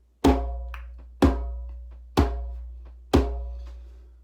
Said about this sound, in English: And a slow beat